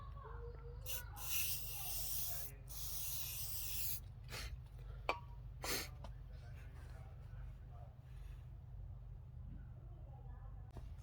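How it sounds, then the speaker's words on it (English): Several short hissing bursts from a spray bottle of adhesive remover on a 2016 Audi A7's badges, spaced apart over a steady low background rumble. "Spray first, let it sit on them, and then wipe it down."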